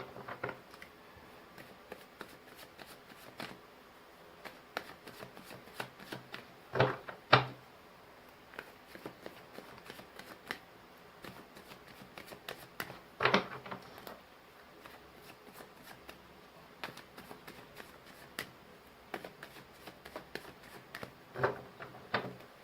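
Tarot cards being shuffled and drawn, scattered soft flicks and sliding rustles with a few sharper slaps, close but quiet, separated by stretches of near silence.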